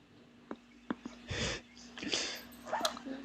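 A dog whines and whimpers indoors in a few short, thin bursts spaced across a few seconds, fairly faint against a quiet room with a low steady hum.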